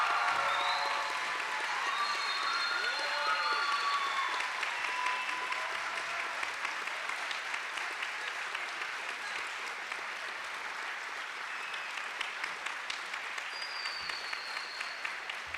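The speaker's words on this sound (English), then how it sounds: "please stand and give her the most round of applause for her." A standing audience at a graduation stole ceremony claps in steady, sustained applause that gradually thins, with faint cheers and whistles over the top.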